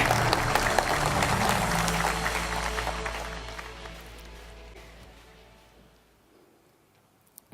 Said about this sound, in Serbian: Jedan aplauz za Tijanu Šerbulu